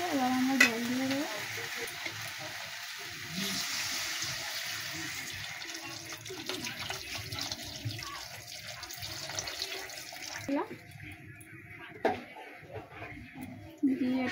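A taro and eggplant curry, just watered down, stirred in a pan: continuous wet sloshing and scraping with a low simmer, and a voice briefly in the background.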